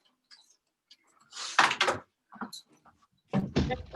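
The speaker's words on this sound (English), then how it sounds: "we're now going to take our door anchor and put it in the top of the door" Door anchor being fitted at the top of a door, producing a few close, sharp thumps and knocks with soft scraping and brief taps in between.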